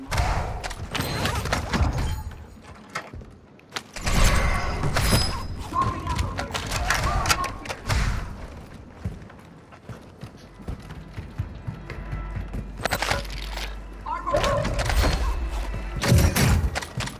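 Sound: airstrike explosions in a video game

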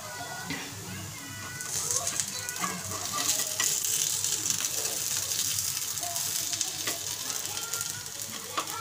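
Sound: flipping corn appe in a frying pan

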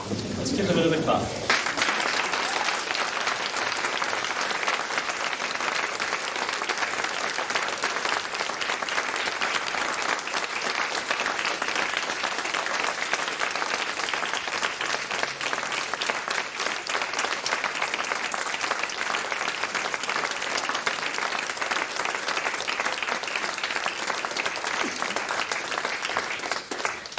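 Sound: audience applause after a school play

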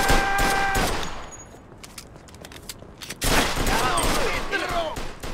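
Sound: gunfire in the video game Mafia II

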